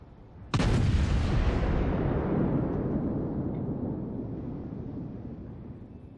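A main-battery salvo from the battleship HMS Nelson in World of Warships: one sudden, loud, close blast followed by a long, rolling rumble that slowly fades, with no voices.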